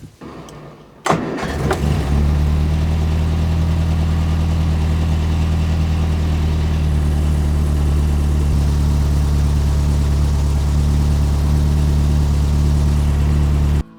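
A Morris Traveller car with carburettor trouble cranks briefly and fires up, then settles into a loud, steady, slightly rough idle that continues close by until the end.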